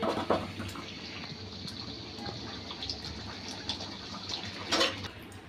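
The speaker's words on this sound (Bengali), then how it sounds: "এবার একটু গরম পানি দিয়ে দেব।" Hot water is poured into a simmering egg, potato and carrot curry, giving a continuous splashing trickle with a few sharper splashes and clinks, close by and with no voices.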